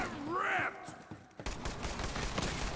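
Rockets firing and exploding in the video game Borderlands 3, a burst of whooshing launches and blasts followed by a dense stretch of booming impacts and debris, loud over game effects.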